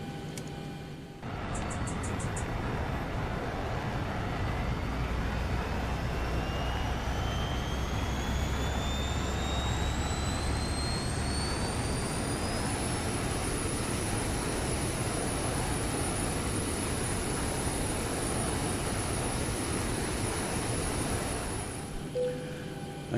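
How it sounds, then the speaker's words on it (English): Boeing 737-800 auxiliary power unit spooling up in a flight simulator, a steady broadband jet roar with a rising whine that climbs over about twelve seconds and then holds a constant high pitch, continuous and loud. "Get the APU up and running."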